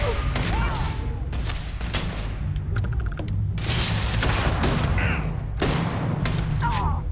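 Shotgun blasts in a Starfield firefight, several loud booming shots at irregular intervals over a continuous rumbling game background.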